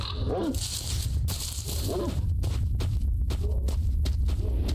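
Dogs in the video game S.T.A.L.K.E.R. Shadow of Chernobyl give a few short barks and growls over a steady, heavy low rumble of game ambience, with scattered footstep-like thuds.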